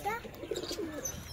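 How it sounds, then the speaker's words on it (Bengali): Pigeons cooing inside a loft on a cold day, a brief, soft burst of low throaty coos with faint chirpy bird calls, fairly quiet and close. "আমি সর্বপ্রথম দেখে দেবো আমার পায়রাগুলো কেমন আছে।"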